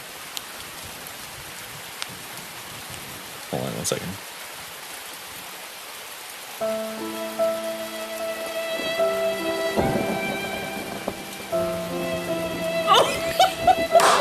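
Steady rain falling with a soft rumble of distant thunder, continuous throughout while a voice speaks briefly and tonal music notes come in later.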